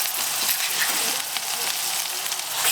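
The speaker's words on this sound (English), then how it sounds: "Put in onions." Onions frying in a pot for Guyanese curry in Georgetown, a steady, close broadband sizzle and crackle that runs unbroken the whole time, with no talking.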